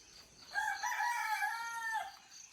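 A rooster crows once in the morning outdoors, a single drawn-out call of about a second and a half at moderate distance against quiet background hiss, with no talk.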